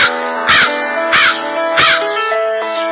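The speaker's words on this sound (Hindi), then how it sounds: "एक दिन एक कौवा भोजन की तलाश में इधर उधर घूम रहा था।" A crow caws three times in an evenly spaced sequence, each call loud, harsh and close, over steady background music in a children's tale of a crow and a fox.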